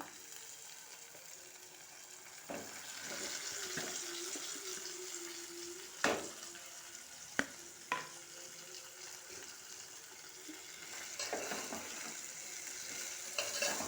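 Okra stirred and fried in a pan with softened onions, a continuous close sizzle broken by scraping stir strokes and a few sharp clanks of the spoon against the pan.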